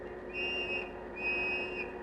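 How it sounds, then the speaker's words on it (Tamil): A police whistle blows two long, shrill, steady blasts separated by a short gap, loud and close over a busy background of music and noise. "என்னது விசில் சத்தம் கேக்குது? Police whistle."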